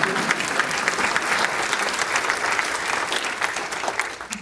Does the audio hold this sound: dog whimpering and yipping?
no